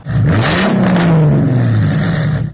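A car engine revs up loudly, the exhaust roaring as the pitch climbs and then holds, close by for a couple of seconds.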